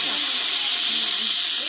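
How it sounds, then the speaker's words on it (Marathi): Oil sizzling in a pan over a wood-fired stove while cooking jackfruit gravy for fifty people, a steady loud hiss that runs unbroken from start to end, with faint voices in the background. "तेल टाकलंय थोडंसं"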